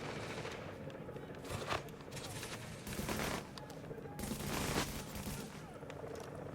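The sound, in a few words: Liberator weapon gunfire in the video game The Division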